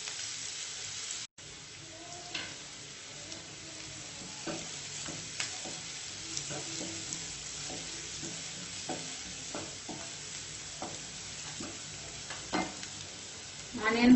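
Onions frying in a pan for vegetable curry filling, a steady moderate sizzle with occasional soft stirring clicks and scrapes, close by, with no talk.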